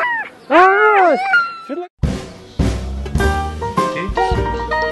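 A cat gives a couple of loud, close meows, followed by a burst of busier, tonal household sound.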